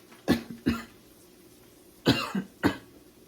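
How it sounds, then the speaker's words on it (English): Two short coughs, a pause, then a harsher burst of two or three more, close and loud with no talking. "Real seasonings make you cough."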